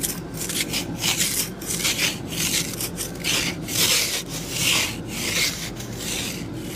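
A worn ice scraper rasps repeatedly across a surface in quick, rhythmic strokes, loud and close with a gritty scratching texture, no voices.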